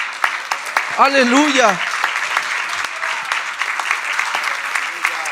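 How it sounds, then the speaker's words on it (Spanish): Church congregation at a Spanish-language service clapping steadily and loudly for several seconds, while a voice calls out briefly near the start over the applause. "Aplauda al Señor, sí."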